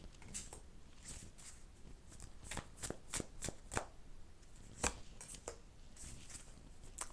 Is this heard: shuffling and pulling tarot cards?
yes